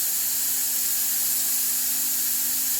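A Lelit MaraX double-boiler espresso machine hisses steadily as its boiler fills, a constant bright rush with a faint low hum underneath and no talking.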